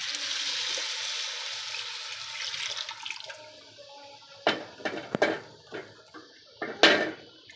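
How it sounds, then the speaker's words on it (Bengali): Hot water pours steadily into a pot of chicken bhuna khichuri for a few seconds, then stops, followed by several sharp clanks of metal cookware. "এখন আমি গরম পানিটা ঢেলে দিব"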